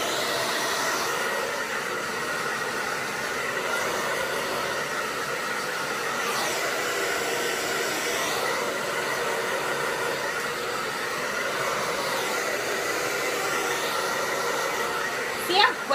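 A hair dryer blows on hair in a steady, loud, continuous broadband roar that holds throughout with little variation.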